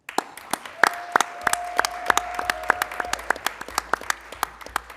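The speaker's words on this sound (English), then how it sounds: "Let us cheer for our cheerleaders." Scattered, sparse hand claps come from a small audience at a school district board of directors meeting honouring the cheerleaders. Distinct individual claps in an irregular rhythm sound fairly close, with little cheering.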